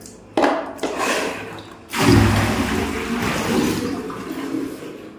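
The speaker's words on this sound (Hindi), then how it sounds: "सबसे पहले तो मैं इनकी टॉयलेट की थैली को ही खाली कर दूँ" A toilet bag is emptied into a toilet, which is then flushed. Two sharp knocks come first, then a loud rushing flush that gradually settles into trickling water, with nobody talking.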